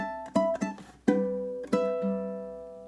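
A ukulele plays a repeated measure of a song: a few plucked and strummed chords ringing out and decaying, played alone.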